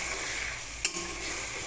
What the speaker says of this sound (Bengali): একটু কষিয়ে নিই মশলাটা।